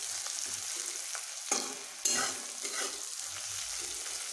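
Onions fry in a pan with salt, giving a continuous soft sizzle broken by a few sharp scraping stirs from a spatula, close and moderately quiet with no speech.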